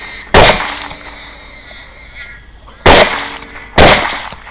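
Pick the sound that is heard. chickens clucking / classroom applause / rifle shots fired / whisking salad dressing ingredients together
rifle shots fired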